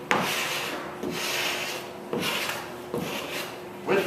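A paint scraper strips bottom paint off the hull of a 1955 Penn Yan boat, working with the grain in long, loud, close rasping strokes, about four pulls separated by brief pauses.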